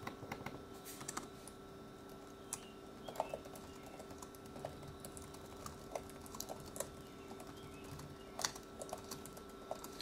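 Emails are typed on a computer keyboard in a quiet office-style setting, with soft, irregular key clicks and occasional sharper taps continuing throughout, close and gentle, without speech.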